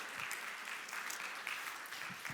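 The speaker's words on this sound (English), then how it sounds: "You guys are nice, clapping for that" A marriage conference audience in Grinnell, Iowa claps steadily, a dense, even wash of many hands applauding, moderately distant and continuous throughout.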